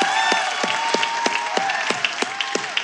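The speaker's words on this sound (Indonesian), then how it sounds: "Tolong tepuk tangan dong buat dia." Audience at a blind audition on The Voice Kids Indonesia applauds, with crisp, evenly spaced rhythmic claps standing out over a softer, continuous wash of clapping.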